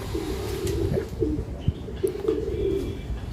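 Homer pigeons in a small loft coo in soft, repeated low phrases, layered over a steady murmur of birds and room noise with occasional chirps from an exotic bird aviary.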